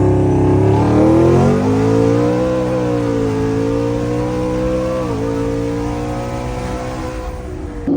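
Heavily modified 1550 whp Shelby F150 truck with turbos doing a hard pull, a loud, steady engine roar rising in pitch as it accelerates, heard from inside the cab.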